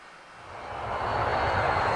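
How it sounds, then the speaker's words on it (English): A small airplane's engine drones as it flies off, a steady broadband roar that swells slightly and holds without pause, with no voices. "Thomas watched the Duke's airplane fly away."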